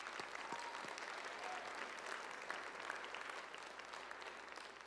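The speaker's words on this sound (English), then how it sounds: "A round of applause for them, please." Crowd at a high school marching band showcase claps in a steady, dense round of applause, heard from some distance and fairly faint, continuing without a break.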